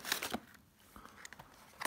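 Crinkling and tearing of packaging as a Defiant electronic door lock is unboxed, with a burst of rustling at the start, quieter handling in the middle and a crinkle again at the end; close and brief.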